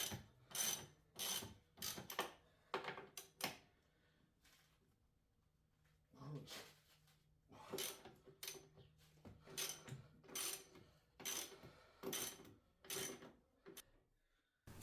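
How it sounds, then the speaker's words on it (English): A ratchet loosens strut bolts on top of a car's suspension: bursts of rapid clicking come in quick runs, pause, then resume in repeated sets, close and crisp against a quiet background. "So next we're going to go ahead and loosen up these strut bolts up top."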